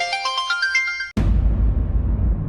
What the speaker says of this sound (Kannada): ಒಳ್ಳೆ ಟೈಮಿಗೆ ಫೋನ್ ಬಂದಿದೆ